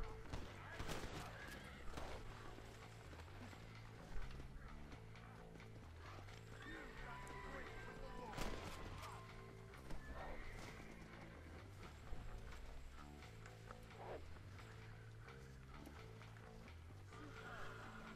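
Horse whinnying and hooves clip-clopping at a gallop in the Red Dead Redemption video game, repeated neighs over busy game music and effects, with someone talking throughout.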